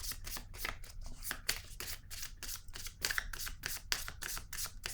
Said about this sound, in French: je vais piger une nouvelle carte